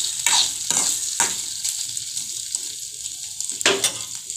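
Ginger and garlic frying in oil in a pan for a lamb liver dish, with steady sizzling and several sharp scraping stir strokes from a spatula, close and clear, no talking.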